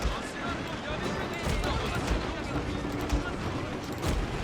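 Musket volleys crackle in a Shogun 2 historical battle at Nagashino, a dense continuous din of distant gunfire under someone talking.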